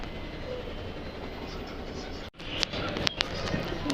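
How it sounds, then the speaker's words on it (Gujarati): A train at Nadiad railway station in Gujarat: a steady rumbling roar that briefly drops out, then returns with sharp metallic clicks and clacks nearby. "તો મિત્રો આ છે નડિયાદનું રેલવે સ્ટેશન."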